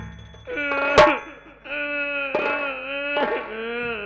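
A woman cries in drawn-out, wavering wails and moans, three long sobbing phrases with a sharp catch of breath between them, loud and close, with no words spoken.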